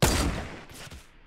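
A single loud sniper rifle shot from Fortnite Battle Royale, a sharp broadband crack at the start that rolls off into a reverberant tail, with a faint secondary report trailing just under a second later.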